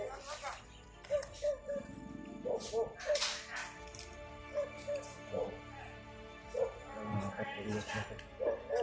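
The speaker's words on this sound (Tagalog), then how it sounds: "Ang aso." A dog barks and whimpers in short, repeated yelps and whines, with people talking throughout the clip.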